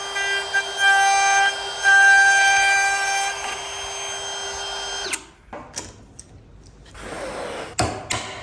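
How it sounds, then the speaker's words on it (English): A drill whines steadily for about five seconds while boring into a door frame, then cuts off, leaving short clicks and knocks of handling afterward. "I don't like self-centering drill bit"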